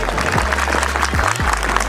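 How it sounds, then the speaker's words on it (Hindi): Audience at a school graduation ceremony claps for the children, a busy patter of applause under a steady low hum with a few tonal swoops. "बच्चों के लिए जोरदार तालियां।"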